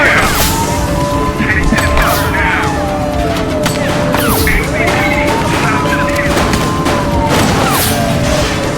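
Gunfire and booming impacts in The Precinct, a police video game, rattle over a dense, loud bed of game sound with music, sirens and shouted voices throughout.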